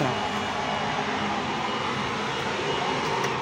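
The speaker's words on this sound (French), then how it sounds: "je vais éteindre l'aspiration parce que sinon on va rien entendre de ce que je vais dire" A forge workshop extraction fan runs in a loud, steady, broadband roar with no change in pitch, filling the space close by, with no talking.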